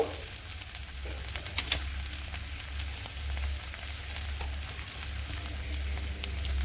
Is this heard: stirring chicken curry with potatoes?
yes